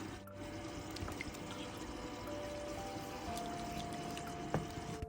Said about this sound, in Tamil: பயிர் வேக வச்சுட்டு கொஞ்சோண்டு தண்ணி கலந்து இதில் ஊற்றிக்கலாம்